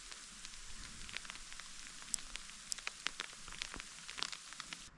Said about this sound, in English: It started hailing at the lake.